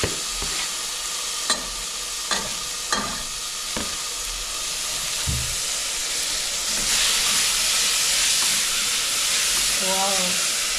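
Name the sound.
tomatoes added to frying onions, sizzling in pan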